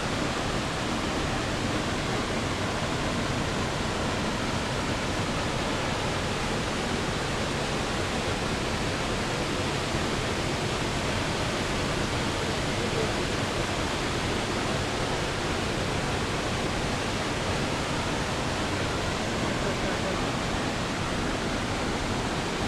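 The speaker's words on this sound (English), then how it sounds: "We're here, Twin Falls." Twin Falls waterfall near North Bend, Washington, pours in a constant broad roar of falling water, steady and fairly close throughout, with no voices over it.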